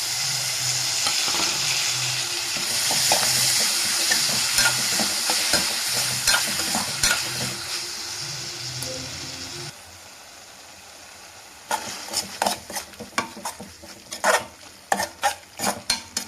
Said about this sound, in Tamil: இந்த டைமில் நம்ம தக்காளி சேர்த்துக்கலாம்.